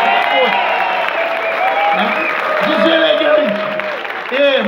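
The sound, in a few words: crowd booing the speaker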